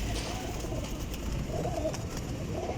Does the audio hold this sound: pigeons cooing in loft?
yes